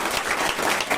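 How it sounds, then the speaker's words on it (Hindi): Audience applause at a marketing company's speech event in Nepal, a steady, dense wash of many hands clapping at close range for a brief moment. "प्लीज उनके लिए एक जोरदार ताली।"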